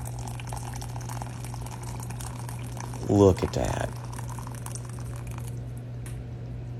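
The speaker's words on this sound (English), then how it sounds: "I just put mine in the electric kettle and then poured it right on top." Boiling water from an electric kettle is poured onto gelatin dessert mix in a short burst of splashing, rising-pitched filling in the middle, over a steady background hum. A person speaks briefly during the pour.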